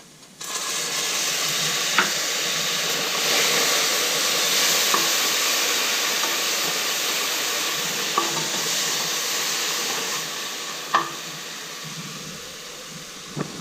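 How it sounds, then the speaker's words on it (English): Fish sauce hits a hot pan while catfish braises for Vietnamese caramelized fish, setting off a steady loud sizzle and hiss that runs on throughout, broken by a few faint clinks of utensils. "reduce heat a little bit, put in the fish sauce"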